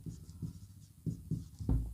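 Chalk or marker strokes on a board during a physics lecture on nuclear mass defect, five or six short scratchy taps in quick irregular rhythm, close and moderately loud.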